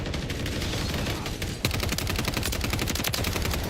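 Automatic and rapid gunfire in the shooter video game XDefiant, dense overlapping bursts that sharpen into a steady crackling volley midway through, loud and continuous with no talk over it.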